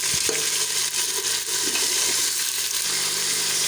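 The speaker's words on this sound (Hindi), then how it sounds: "अभी हम सिर्फ गोश्त को तकरीबन 5 मिनट के लिए दरमियानी आंच पर पकाएंगे" Meat fries in oil with garlic and ginger over medium heat for a Shinwari karahi, giving a loud, continuous close sizzle with occasional stirring clatter.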